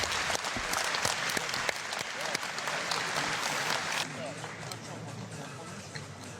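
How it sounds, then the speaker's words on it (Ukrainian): Steady, loud applause fills the hall for veteran boxers after a bout, with a voice talking over it and the clapping easing slightly near the end. "безумовно, ці оплески хлопцям"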